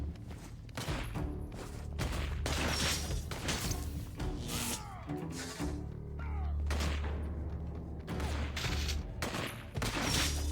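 A firefight in the Infamous 2 video game, with bursts of gunfire, thuds and whooshing impacts, dense, loud and continuous without talk.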